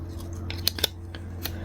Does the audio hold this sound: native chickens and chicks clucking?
no